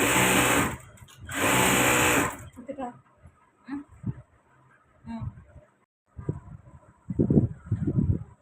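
An electric sewing machine runs in two loud, close bursts at the start, followed by someone talking in short phrases.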